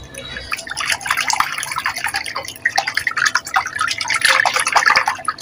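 Clothes being washed by hand with water, repeated wet slaps, splashes and drips in an uneven rhythm, close and fairly loud.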